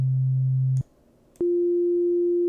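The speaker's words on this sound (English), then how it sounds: "Now let's load up a sine wave." A pure sine-wave tone from an LSDj Game Boy tracker sounds twice: a low steady hum, a short break, then a clean sustained tone at a higher pitch, loud and alone with no other sound.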